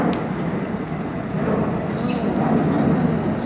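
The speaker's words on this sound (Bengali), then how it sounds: "প্লেন যাচ্ছে উপর দিয়ে" An airplane passing overhead above a park in the morning, a broad steady roar that builds slightly over a few seconds, moderately loud and continuous, with faint other park sounds and no speech.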